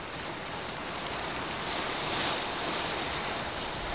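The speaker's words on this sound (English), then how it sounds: "we were hoping the rain would ease up, but it's getting worse, isn't it, Paul?" Heavy rain and gusting wind batter the outside of a parked motorhome at a pub stopover in Worcestershire, a dense, steady hiss and roar that swells slightly midway, fairly quiet and continuous without any talk.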